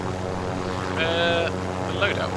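A helicopter's rotor and engine drone steadily in a Call of Duty match, a loud, continuous hum with a brief higher whine rising over it midway.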